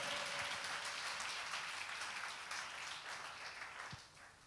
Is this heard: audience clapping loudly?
yes